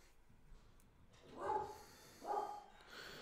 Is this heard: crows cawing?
no